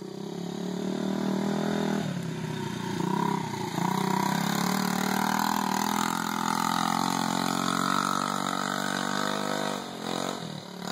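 A 90cc enduro motorbike engine straining up a big hill, a steady loud droning whine that rises and holds in pitch, close and continuous with no talking.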